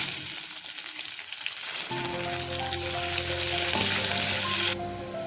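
Curry leaves drop into hot oil in a pan while making a ginger curry, setting off a sudden loud crackling sizzle that keeps spitting steadily, with no talking.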